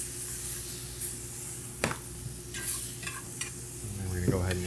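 Food being mixed in a hot frying pan: a steady sizzle broken by a few quick scraping strokes of a utensil, heard up close.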